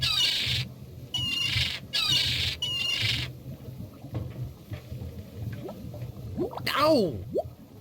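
A bird squawks in the adventure game The Secret of Monkey Island, several harsh cries rising and falling among game sounds near the end, preceded by bursts of hissy noise while a voice speaks.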